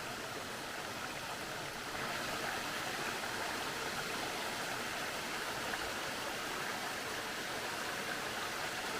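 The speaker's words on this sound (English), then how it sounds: "You can see it's not got a real good flow, which I figured that because it is dry, but still a beautiful waterfall" Nancy Town Falls at low flow in dry conditions, a steady, dense rush of falling water that holds at an even level throughout with no talk.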